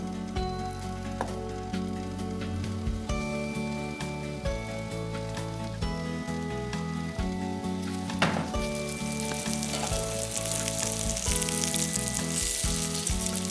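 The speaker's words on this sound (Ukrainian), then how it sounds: "Смажимо на пательні з розігрітим маслом." Steady, crackling sizzle of floured fish frying in hot oil in a pan, close and continuous, with occasional clinks and stirring noises.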